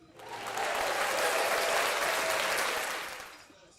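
Crowd at a Walnut Creek Crawdads versus Solano Mudcats baseball game applauding, a dense steady wash of clapping that swells in, holds for a few seconds, then tapers off, with no voices over it.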